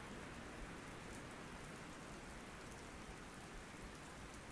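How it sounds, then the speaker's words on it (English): Rain falls steadily in the Scottish Highlands beside a waiting train, a constant, even wash of dense patter with no pauses or voices. "The rain feels like it's getting a little heavier, so you waste no time in making for shelter aboard the train."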